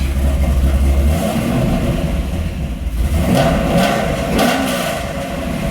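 A Corvette Z06 V8 with stock mufflers, idling at about 1,000 rpm, rumbles loudly up close with a choppy lope, then gets blipped into a couple of short revs that rise and fall.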